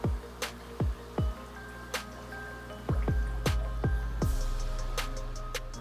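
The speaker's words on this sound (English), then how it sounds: "Notice the large bubbles producing a loud bubbling sound at the top of your tank." An aquarium sponge filter without modification throws large bubbles that burst at the water surface, heard as loud, irregular plops and drips close by with no talking.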